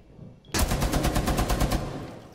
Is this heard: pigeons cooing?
no